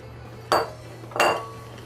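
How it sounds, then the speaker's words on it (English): Cheddar melts in a pot for mac and cheese as a metal utensil stirs it, giving two distinct close clinks against the pot with faint ringing between them. "Now we're going to stir this until it gets melted."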